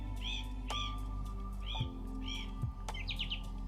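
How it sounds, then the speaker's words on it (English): Birds calling outdoors in nature, repeated clear chirps and short whistled calls at moderate distance over a low steady background hum. "Surely you can also hear the birds,"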